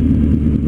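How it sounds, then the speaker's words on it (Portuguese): A Honda CB650R motorcycle fitted with an exhaust diffuser idles with a loud, deep, steady engine rumble close up, a brief continuous burst with no voices. "se você estiver preocupado só com o ronco da moto, compensa muito, porque fica fantástico"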